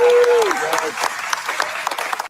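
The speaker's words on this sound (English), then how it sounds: "Round of applause for that." Audience applause in a live studio session, a burst of clapping and crowd noise that thins out over a couple of seconds, with a sliding tone at the start.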